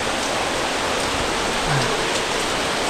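Heavy monsoon rain pours steadily over a Konkan village, a dense continuous hiss of drops on surfaces, loud and unbroken with no voices.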